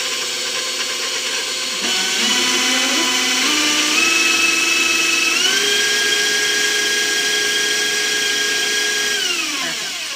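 Electric hand mixer whirring through red velvet cupcake batter, a steady motor whine that starts about two seconds in, steps up in pitch a few times, then winds down near the end; no talking.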